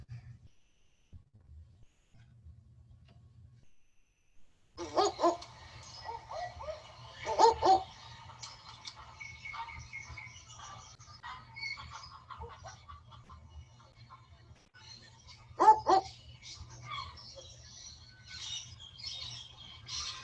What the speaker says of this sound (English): So this one is known as the barking owl or the winking owl.